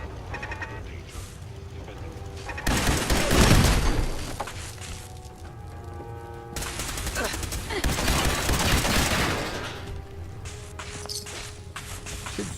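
Gunfire in Fallout 4 comes in two loud bursts of rapid shots, each several seconds long, with quieter game ambience between them and a voice speaking briefly.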